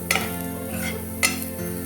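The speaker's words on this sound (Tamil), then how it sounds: "ஆனியன் ஆட் பண்ணுங்க, இது ஃப்ரை ஆகட்டும்." Garlic, onion, carrot and beans fry in a pan with a soft, steady sizzle, broken by two sharp utensil clinks against the pan.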